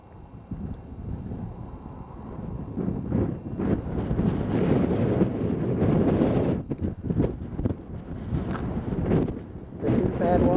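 Steady wind in Death Valley at Badwater buffets the microphone with a low, gusty rumble and rustle throughout, fairly loud and close.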